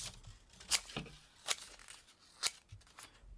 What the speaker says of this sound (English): grab some paper, marker, and some scissors. And what we're going to do is we're going to cut out 4 little squares